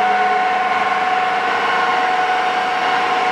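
A Kearney & Trecker Model 315 S-15 vertical milling machine with a sliding dial head runs at its 2,000 RPM top spindle speed, giving off a steady, loud mechanical hum with a constant whine and no talking.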